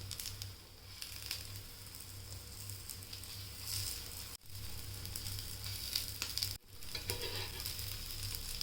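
Bread and potato patties frying in a small amount of oil in a pan, a continuous soft sizzle with faint crackles, broken twice by brief pauses, no voices.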